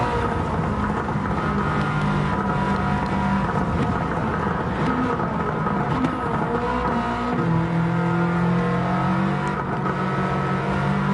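A race car lapping the Nürburgring in Gran Turismo 7 in VR: a continuous engine roar rises and falls through gear changes and revving, with tonal engine notes shifting as the car accelerates.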